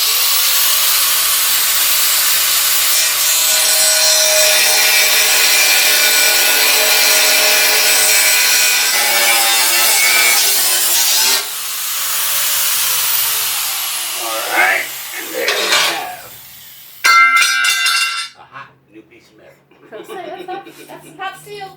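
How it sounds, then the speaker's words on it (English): An angle grinder screeches loudly through a steel plate for about eleven seconds, then whines in shorter bursts and spins down, with a few quiet gaps at the end. "I got the grinder set up here. I'm going to cut this plate right here along this line."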